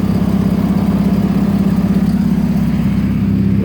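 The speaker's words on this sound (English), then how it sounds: "it has the idle hunt issue a little bit" A 1985 GSL-SE with a slight idle-hunt fault sits idling nearby, its engine giving a loud, steady low throbbing pulse with a fast, even rhythm throughout and no voices.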